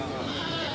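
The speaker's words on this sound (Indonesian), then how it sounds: "Ini jenis kambingnya jenis Jawa Randu asli." A Jawa Randu goat gives one short, close, loud bleat, overlapped by a human voice.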